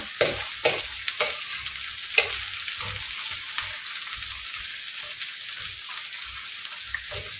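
Chopped pepper and garlic fry in a pan before chicken hearts go in, with a steady sizzle and repeated scraping stirs from a utensil, close and continuous.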